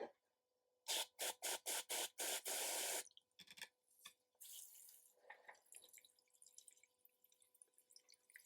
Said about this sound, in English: we're just going to bang a load of water in here